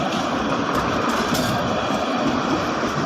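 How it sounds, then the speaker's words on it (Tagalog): A train rolls past in Casablanca, Morocco, giving a steady, fairly loud rumble with a faint metallic hiss that holds evenly for the whole stretch, with no voices. "may train pa rin dito."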